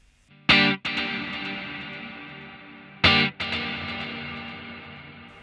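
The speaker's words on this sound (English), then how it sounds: "So you can hear the reverb on the delay." Electric guitar through a Line 6 Helix Heliosphere delay with reverb on the delay trails: two strummed chords a few seconds apart, each ringing out into long, washy, echoing tails that fade smoothly, with no talking.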